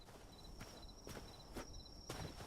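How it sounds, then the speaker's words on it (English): A walking skeleton in the Hytale video game takes evenly spaced footsteps, about four soft thuds over a faint insect-like chirp, quiet and without speech. "I heard footsteps."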